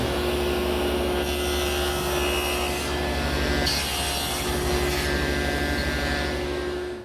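A table saw with a miter gauge cuts through wood for a corner chair, giving a loud, continuous whine and rasping bite that holds steady before tapering off at the end.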